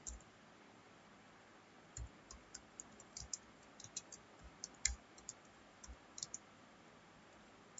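Quick, irregular clicks of a computer keyboard as an HTML program is typed into Notepad, soft and close with no speech, keys landing in short uneven bursts.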